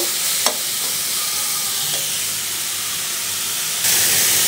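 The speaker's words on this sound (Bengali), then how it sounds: "এখন ভালো করে ভেজে নেব, যে একটু পানি পানি ভাব আছে ওই পানিটা একেবারে টেনে যাবে।" Greens fry and are stirred in a pan, giving a continuous sizzling hiss with a scrape or clack near the start and a louder surge of sizzle toward the end, no voices.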